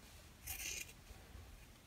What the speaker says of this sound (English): I'm just going to trim the seam allowance